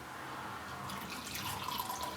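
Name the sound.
pouring hot chocolate from a Vorwerk Thermomix TM5 into cups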